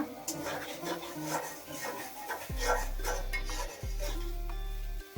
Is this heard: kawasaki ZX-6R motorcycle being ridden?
no